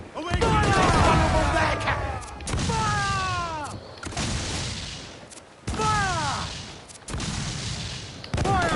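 Ship cannons fire in Assassin's Creed IV Black Flag naval combat: several loud, booming volleys in rapid clusters, each with a rolling tail, separated by short pauses and layered over a dense battle rumble.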